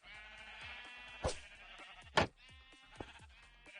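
A flock of dyed sheep, among them a lime green one, bleats in three or four short separate calls over a steady tonal background, with no talking.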